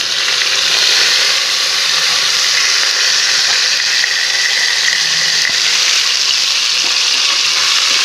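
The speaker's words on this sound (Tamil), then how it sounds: "வெங்காயம் நல்லா வதங்கிடுச்சு." Onion and garlic sauté in hot oil in a pan, the steady dense sizzle holding for the whole stretch, close and fairly loud, with faint stirring scrapes beneath and no voices.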